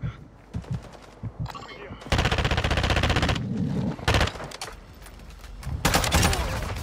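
Gunfire in the video game Call of Duty: Modern Warfare III comes in choppy automatic bursts and sustained rattling volleys, loud and close, with brief pauses between strings of shots.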